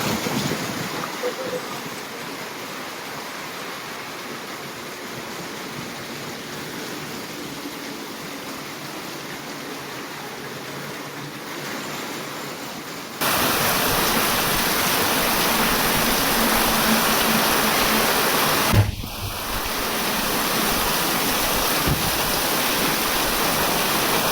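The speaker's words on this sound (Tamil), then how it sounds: "மழை சவுண்டில் நான் பேசுகிறது கேட்காதுன்னு நினைக்கிறேன்." Heavy rain falls during a motorcycle tour through North East India, a dense, steady hiss that jumps much louder about halfway through and keeps pouring with wind-like rushing.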